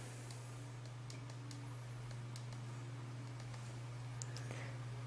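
Soft, quick clicks of typing on an Amazon Kindle 2's small keyboard, faint irregular taps over a steady low electrical hum, with no voices.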